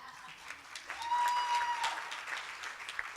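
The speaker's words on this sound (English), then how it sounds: "Doesn't that deserve applause?" Audience applause at a digital inclusion summit celebrating a community college's top-ten national ranking; a steady, moderately distant wash of clapping from a large crowd that swells briefly, with a faint voice over it.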